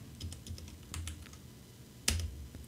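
Fast typing on a computer keyboard: a string of quick key clicks with short pauses, one louder key strike near the end like an enter press, all close and fairly quiet with no talking.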